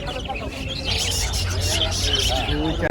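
Many small cage birds chirping and tweeting busily together at a bird market, close by, with someone talking over the chatter.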